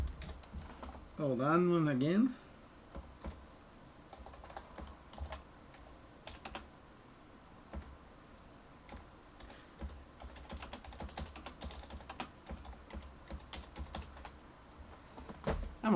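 Typing on a computer keyboard at a steady, scattered pace of light clicks, close and moderately quiet, with a brief burst of someone speaking near the start.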